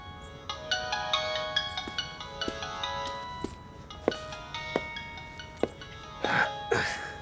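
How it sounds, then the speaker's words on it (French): A mobile phone rings with a bright electronic melody that repeats in steady bursts, moderately close, and ends with a couple of louder rustling handling noises. "Bah, où est-ce qu'il est, mon téléphone?"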